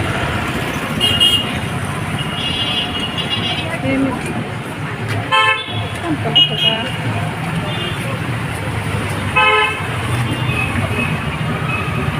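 Dense rush-hour road traffic in a jam rumbles steadily, with repeated car and scooter horns honking near and far while people talk over the din.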